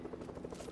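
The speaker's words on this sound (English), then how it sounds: "There's a heli here, except we can't shoot it down." A helicopter hovers in Fortnite, a steady close buzzing drone with a faint pulsing throb that holds even for a short moment.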